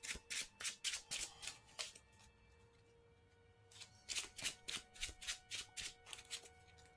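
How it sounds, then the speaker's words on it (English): A deck of game cards being riffle-shuffled at a tabletop session, two bursts of quick crisp rhythmic flutters close by with a short quiet pause between them. "And then we'll give these a shuffle."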